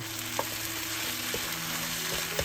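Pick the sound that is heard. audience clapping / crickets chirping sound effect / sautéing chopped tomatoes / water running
sautéing chopped tomatoes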